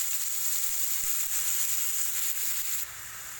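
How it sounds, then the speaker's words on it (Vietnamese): Tomatoes stir-fry with garlic in a hot pan, giving a loud, steady, close hiss of sizzling that drops slightly near the end, with no talking. "mình cho cà chua vô mình xào"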